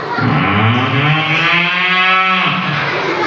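A voice imitates a cow's moo, one long low bellowing call with a rising, wavering tone, loud and close over a murmur of children in a school hall.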